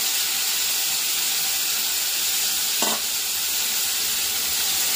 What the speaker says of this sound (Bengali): টমেটোটা দিয়ে দিলাম 5 ফোড়নের পরে, আর দিয়ে দেবো হচ্ছে এই যে মশলাটা